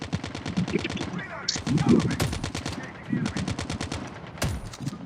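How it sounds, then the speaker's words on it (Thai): Rapid automatic gunfire bursts in a four-versus-four shooter video game, loud and close, with rattling volleys, a few sharp single shots, and players shouting over the shooting. "โดนยิงข้างหลังช่วยหน่อยช่วยหน่อย"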